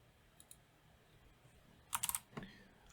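Keyboard shortcuts tapped on a computer keyboard, a couple of faint isolated clicks followed by a quick cluster of four sharp keystrokes and one more, close and crisp in a quiet room.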